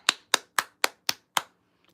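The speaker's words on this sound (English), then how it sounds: "One more round of applause for the moderators." Six evenly spaced, crisp hand claps from a single person ring out close and clear on a livestream in a slow steady rhythm, then stop, leaving near silence.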